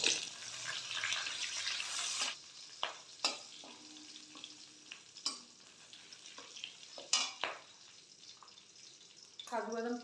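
Whole spices fry in oil in a pot with sugar, cardamom, mace, cloves and bay leaves for basanti pulao. A soft steady sizzle runs under scattered stirring scrapes and light clinks, with a short trickle of water near the end.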